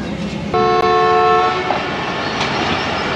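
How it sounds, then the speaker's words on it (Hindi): Departure whistle of the Tezgam passenger train at a Pakistani railway station on a rainy day, one loud, close, sustained tonal blast of about a second over a steady rumble of rain and background noise. "डिपार्चर विसल तो हो गया हमारी ट्रेन का"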